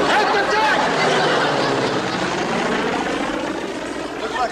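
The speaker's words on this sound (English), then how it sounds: "Looks like a plane from the cruiser" A propeller plane from a navy cruiser flying overhead in a 1960s sitcom scene, a loud continuous engine roar that fills the whole clip and fades slightly at the end, with voices talking underneath.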